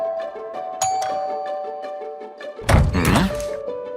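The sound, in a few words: doorbell ringing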